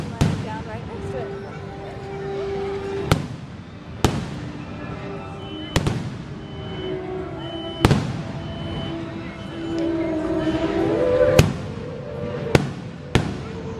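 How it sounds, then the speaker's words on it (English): Fireworks at Disneyland burst in sharp, loud bangs close by, about eight explosions spaced a second or two apart, with crackling and faint voices between them. "That's where they shoot the fireworks."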